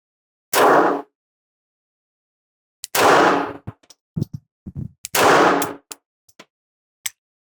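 Three loud, sharp gunshots from a Bodyguard 2.0 self-defense pistol fired at a target about 7 yards away, each blast ringing out briefly and spaced a couple of seconds apart, with faint clicks and handling noises between them.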